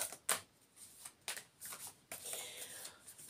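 Tarot cards being shuffled by hand, a series of soft riffling and slapping bursts, quiet and close, with no talking.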